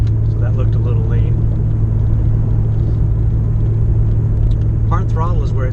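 A Ford Mustang engine runs at part throttle while cruising at freeway speed, giving a steady low rumble with road and cabin drone, and someone talks over it.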